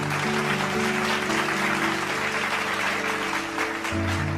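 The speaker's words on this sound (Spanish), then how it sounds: "Dale un aplauso al Señor." A church congregation claps together in sustained, even applause, loud and close, while a low organ or keyboard chord holds underneath.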